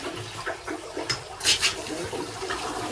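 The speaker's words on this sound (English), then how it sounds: "Flush the toilet." A toilet flushing at a family lodge in humid weather, water rushing in a steady, moderately loud wash with a few brighter splashy surges midway.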